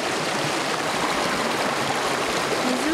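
A river flows through Hanazono Gorge in Kitaibaraki, making a steady, broadband rush of water that holds evenly throughout, close and continuous with no voices.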